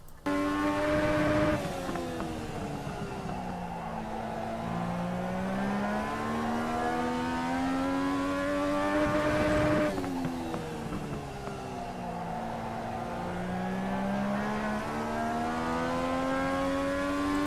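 Legend car engine in the iRacing game at Charlotte, loud and continuous, revving and whining through repeated gear-like pitch sweeps as it laps the track, with a brief burst near the start and another around ten seconds; no talk.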